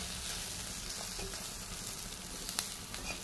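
Frying with scarcely any oil in a pan of mustard seeds and turmeric makes a soft, even sizzle close by. A couple of faint clicks come near the end, and nobody speaks.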